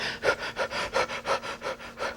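Deep, forceful breathing exercise with air pushed fully in and out, about seven rapid panting-like breaths in a steady rhythm, close and fairly loud with no talking.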